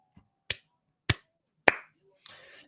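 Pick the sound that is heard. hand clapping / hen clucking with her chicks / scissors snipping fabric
hand clapping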